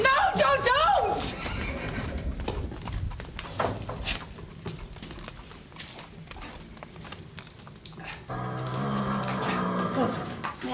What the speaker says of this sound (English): Try and calm those horses down